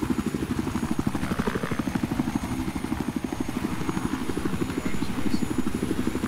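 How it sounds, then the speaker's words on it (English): A military helicopter in a 64-player Battlefield 4 Conquest battle drones overhead with a steady, fast rotor chop that stays loud and continuous throughout, with faint game noise and a thin high whine behind it. "Another helicopter."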